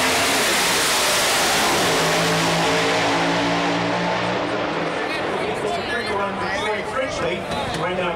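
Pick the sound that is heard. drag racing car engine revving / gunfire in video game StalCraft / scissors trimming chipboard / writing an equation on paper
drag racing car engine revving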